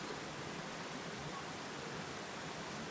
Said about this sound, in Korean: 넓은 계곡의 바위 사이로 흐르는 물이 맑고 깨끗해 보는 이의 마음까지 정화되는 듯합니다